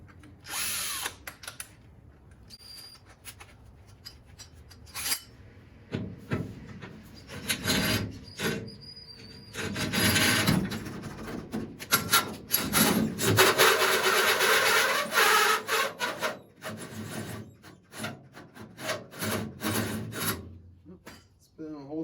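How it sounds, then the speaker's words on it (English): A battery-powered cordless drill spins a hole saw through wood, with grinding and rasping bursts that rise and fall, stopping and restarting over a faint background. "Spinning a hole saw on a battery operated drill"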